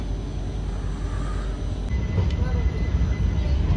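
A passenger train runs with a steady, low, rattling rumble heard from on board, continuous and moderately loud throughout.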